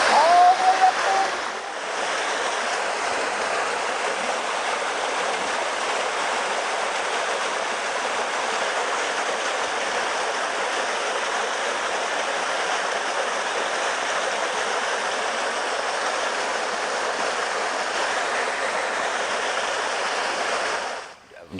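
A waterfall on the trail at Holly Lake Ranch, a steady broadband rush of falling water that holds at an even level throughout, close and unbroken, with no talk over it.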